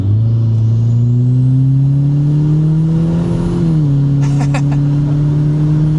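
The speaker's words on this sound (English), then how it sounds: "Oh, the turbo spool on this thing is crazy." Mitsubishi Evo 9 wagon accelerating hard up a UK motorway on-ramp with its turbo spooling: a loud, close engine note climbing steadily in pitch, briefly easing, then pulling on, with a faint whistle and chatter near the end.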